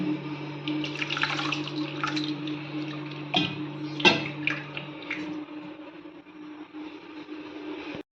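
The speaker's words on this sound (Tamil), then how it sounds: "இதில் இன்னும் கொஞ்சம் தண்ணி ஊற்றிக்கலாம்." Water poured from a vessel into a ragi millet mixture for ragi koozh, a steady splashing trickle for several seconds, close by, that tapers off near the end.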